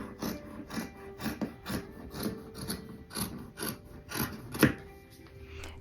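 Scissors snip through a thrifted sweater's knit fabric in a quick series of close, crisp cuts, roughly a dozen rhythmic snips with one sharper clip near the end, and no talking.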